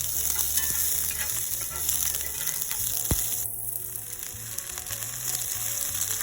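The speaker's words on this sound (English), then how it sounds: "In a skillet, I'm going to heat up some oil and then saute my shallots." Shallots sauteing in hot oil in a skillet, a loud, steady sizzle with occasional stirring scrapes and a brief clink.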